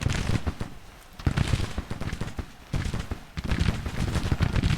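Artillery fire in a Civil War strategy game set in spring 1862 rumbles as dense, overlapping volleys of booms and crackling shots, sustained and loud, rising and falling in waves.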